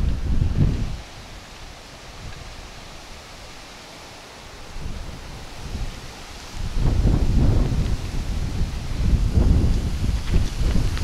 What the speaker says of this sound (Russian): Ну и ветер сегодня.